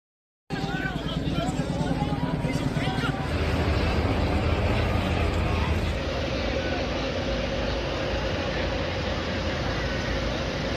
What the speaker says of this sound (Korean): 여의도 국회 상공에도 헬기가 드나들었습니다